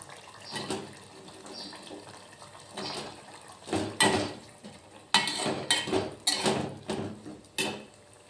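Flat broad bean pods (chapta val shenga) tipped into a pan of sambar-spiced masala in a home kitchen, giving a series of loud clattering, sizzling bursts and utensil knocks that grow denser toward the end, with no talking.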